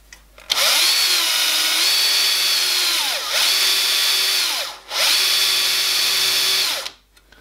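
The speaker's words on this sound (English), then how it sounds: "And I'm just going to mark it with a drill." A power drill spotting a hole through the center rivet position on a boiler support bracket for a miniature steam locomotive, whining loud and close in three sustained bursts with brief pauses, pitch dipping as each burst starts and ends.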